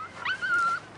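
A dog gives a faint, thin whimpering whine: a short rising yip and then a drawn-out steady whine, with another brief whimper at the end, heard alone.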